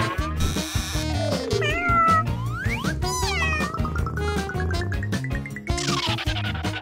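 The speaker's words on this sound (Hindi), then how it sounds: "ये सब बिल्ली की वजह से हुआ, इसने मुझे खरोचा था।" A cat meows loudly and repeatedly, its calls rising and falling in pitch with short gaps between them, heard up close with no talking.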